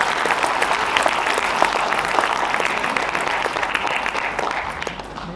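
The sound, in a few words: audience applause for the committee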